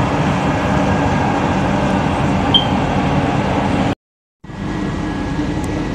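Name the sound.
LRT Jabodebek light rail train arriving at Ciliwung station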